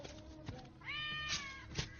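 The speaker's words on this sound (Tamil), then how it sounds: "பூனை குட்டி போட்டிருக்கா?" Several cat meows from an indoor room, a short call followed by a longer, drawn-out wavering meow and a final brief one, fairly close with no talk over them.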